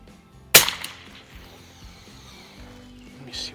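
A single sharp crack from a Savage NRA Match Model 19 rifle fired with iron peep sights at the 50-yard line. A quieter knock follows, then faint background noise and a small click near the end.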